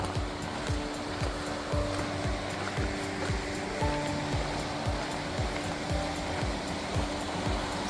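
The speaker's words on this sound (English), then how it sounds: "walking right alongside this North Fork River is what it's called" North Fork River swollen with snow melt near Maroon Bells, a steady, full rush of flowing water, close and constant, with a low rhythmic thudding underneath.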